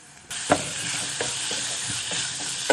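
Onions with cooked carrots and green beans hit a hot pot and sizzle, a sudden rise into steady frying hiss punctuated by several sharp stirring clacks and spatters, with no talking.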